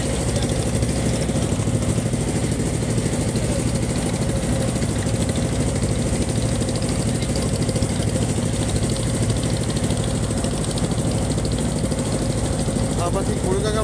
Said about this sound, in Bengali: ট্রলারে অনেক সাউন্ড হচ্ছে, কিন্তু কিছু করার নাই।